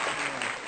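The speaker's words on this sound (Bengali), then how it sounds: "জোরে হাততালি।" A crowd claps loudly together for a contestant at a football kicking game, a short burst of dense applause.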